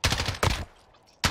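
Bursts of rapid automatic gunfire from a first-person shooter game, two loud rattling volleys with a short quiet gap and a third burst starting at the end, no talking.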